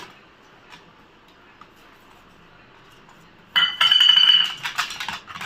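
A spoon stirs cornflour into beetroot juice in a bowl: faint isolated taps at first, then a sudden stretch of rapid, close clinking and scraping against the container.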